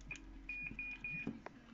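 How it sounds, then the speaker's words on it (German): Short electronic beep tones from a Kpo 5000DX+ radio transceiver: a brief chirp followed by a run of steady, clean pips, with a faint hum and hiss underneath and no talk. "funktioniert dieser Piepton immer"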